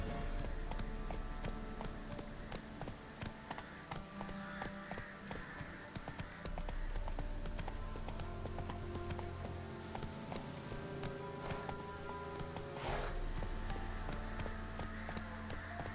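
A horse galloping in The Witcher 3 video game, a rapid clip-clop of hooves that runs steadily throughout over a dense layer of game ambience and music.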